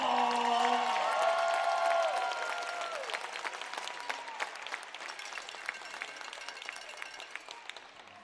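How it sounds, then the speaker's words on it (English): A crowd applauds in a high school basketball gym, a broad wash of clapping at moderate distance that tapers off into scattered claps, with a tone ringing out during the first few seconds. "Now let's give Xander a big round of applause."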